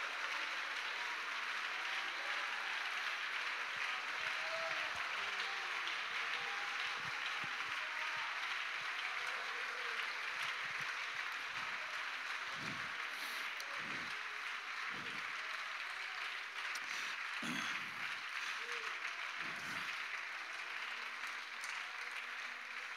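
A church congregation applauds steadily and continuously at a moderate distance, a dense wash of clapping that holds for the whole stretch with no talk over it.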